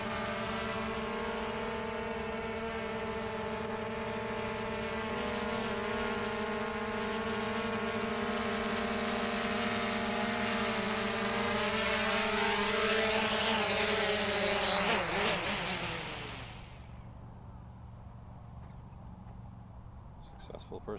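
An EXO Cinemaster 2 camera drone hovers with a loud, steady high-pitched propeller whine that bends in pitch as it descends to land, then cuts off abruptly, leaving quiet outdoor background.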